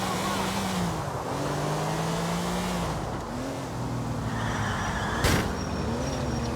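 Car engine driving in Grand Theft Auto IV, a continuous loud drone with shifting engine pitch, a brief sharp burst near the end, with gameplay ambience around it.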